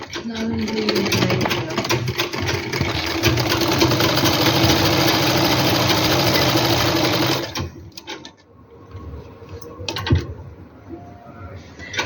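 A sewing machine stitching fabric for a simple suit runs steadily and loudly for about seven seconds with a fast rattling whir, then stops, leaving quieter handling and a soft thump.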